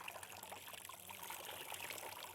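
Water trickles and drips from soaked, spongy orchid potting medium, a faint, steady patter with no voices.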